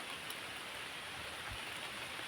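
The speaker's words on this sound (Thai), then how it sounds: "ฝนตกแล้วครับพี่ซี" Steady rain falls in a continuous soft hiss, even and unbroken throughout, fairly faint and distant-sounding, with no voices over it.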